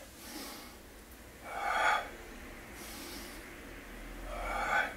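Exercise breathing during a beginner home circuit-training session, two audible slow inhale-exhale cycles with breathy rushes of air, fairly close and moderate in level, with no talk over them.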